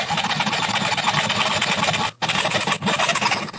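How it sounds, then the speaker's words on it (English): A hand saw cuts scrap copper pipe clamped in a bench vise, with continuous rapid rasping strokes, close and loud, broken by two brief pauses. "I'm cutting just over the edge of the line to make sure the length of the pipe is a little shorter than the jaw"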